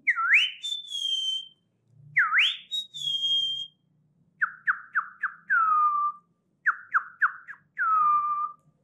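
A man whistles an imitation of the common iora's call, starting with two swooping, rising whistles and moving into rapid trilled runs of short notes that end in drawn-out falling tones, clear and close against a quiet background.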